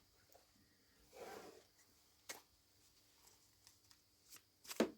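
Tarot cards being shuffled and pulled from the deck, with soft papery riffles and brief flicks spread across a quiet stretch, a sharper snap of cards near the end.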